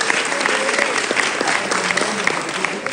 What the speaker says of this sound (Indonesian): Boleh tepuk tangan buat kalian?